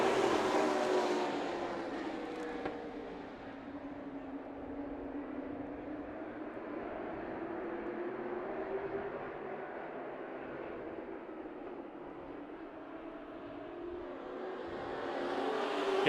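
Modified race cars in the Spears Modified Series roar around Tucson Speedway, a continuous loud engine drone that swells and fades as the field passes at a distance.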